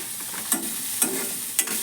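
Food sizzles in a hot pan with a constant crackling hiss, broken by three sharp scraping strokes of a spatula stirring.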